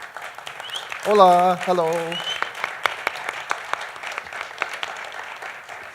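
Audience applause welcomes game designer Eric M. Lang at a Spanish board-game meetup. Voices greet the crowd first, then a scatter of separate claps follows, fairly light and irregular rather than a full roar.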